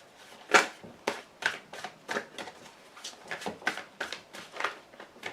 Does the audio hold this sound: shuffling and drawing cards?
yes